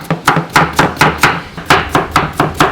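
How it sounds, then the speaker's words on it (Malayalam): Carrots for ghee rice are chopped with a knife on a board, about a dozen sharp, evenly spaced thuds in quick steady rhythm, close and loud, with no talking. "ഗീ റൈസിനുള്ള ക്യാരറ്റാണ് അരിയുന്നത്."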